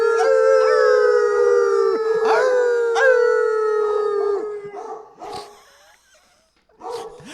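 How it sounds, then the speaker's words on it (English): Bella the dog lets out a long, loud sustained howl, wavering in pitch, broken by sharp barks, then trails off into a few quieter yips and a final bark after a brief pause. "That's her pro-Trump bark."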